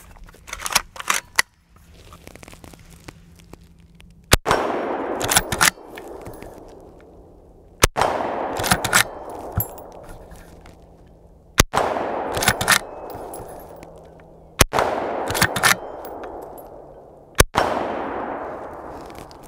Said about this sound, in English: Before we head to the 100 yard range, let's do some shooting at 50 yards.